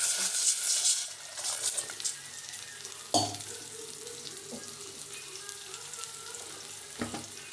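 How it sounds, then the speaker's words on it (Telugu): Water is poured into a pot of pulao rice in a home kitchen, two glasses of water per glass of rice, making a steady close splashing pour, with a few sharp clinks and knocks of the vessel. "దీంట్లోకి వాటర్ పోసుకుందాము."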